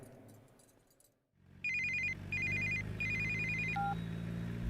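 A telephone rings in a series of bright electronic trills after a short quiet pause, loud and close, with a low hum underneath.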